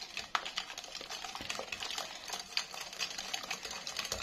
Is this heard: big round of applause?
no